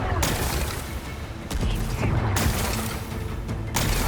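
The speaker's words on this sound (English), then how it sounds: "Gotta blast away some rocks, so I can expose the power cell." Explosions blast away rocks in the Horizon Forbidden West video game, a dense string of loud booms and crashing bursts that keeps going throughout, with game effects and some speech-like sound mixed in.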